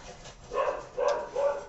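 A puppy gives three short, yappy barks in a quick series, moderately loud and close, with no talking over it.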